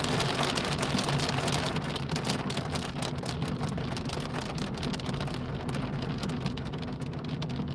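Hail and heavy rain drum constantly on a car windscreen while driving on a very wet day in the UK near Wigan, a dense, loud patter over the low rumble of the moving car.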